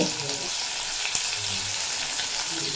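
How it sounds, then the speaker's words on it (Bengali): Prawns coated with salt and turmeric frying in hot oil for an okra dish, giving a steady close sizzle with a soft clink partway through and no talking. "এই তেলে আমি কয়েকটা চিংড়ি মাছ ভেজে নেব"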